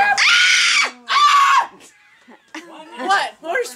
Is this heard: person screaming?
yes